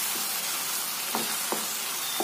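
Spice mixture with Kashmiri red chilli powder frying in a pan for mushroom matar, a steady soft sizzle throughout with a few brief stirring scrapes, close and moderately quiet.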